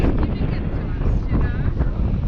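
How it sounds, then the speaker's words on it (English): Strong wind buffets the microphone on the Tierkop Doringrivier hiking trail, a loud continuous low rumble with gusty fluctuations, close and dominating. "Fairly strong wind suddenly moving these clouds in, keeping us nice and cool here"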